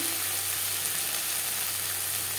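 Onion frying with a paste of garlic, ginger and green chili, giving a steady, close, even sizzle of moderate loudness throughout with no talking.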